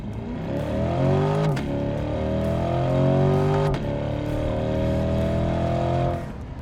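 Chevrolet C8 Corvette 3LT with Z51 package accelerating hard, the engine note climbing through rising revs with two quick gear shifts, loud and close from inside the car.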